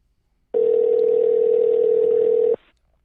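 A single steady telephone tone sounds alone for about two seconds while a call waits to be answered, starting and stopping abruptly.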